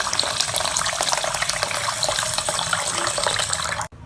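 Water pours in a continuous splashing rush over rice and mung dal being washed for khichuri, heard up close without pause, then cuts off abruptly at the end.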